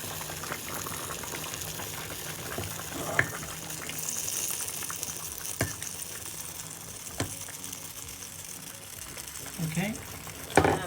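Boiling pasta water with spaghetti being drained from the pot, a hissing, bubbling wash of liquid with occasional clatters and gushes, fairly faint, with brief sounds of someone moving about the kitchen.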